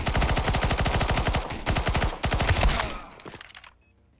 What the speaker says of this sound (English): Some M4 shots.